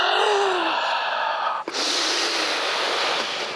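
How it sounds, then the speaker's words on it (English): A deep inhalation during a voice exercise, a loud, close breath drawn in at the start that changes into a steady, breathy rush and then keeps going to the end. "Breathe in and down."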